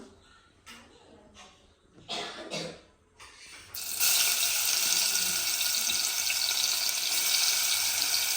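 Crushed ginger, garlic, shallot and dried chilli drop into hot coconut oil and break into a loud, steady, close sizzle that holds to the end, after a few light clinks and scrapes.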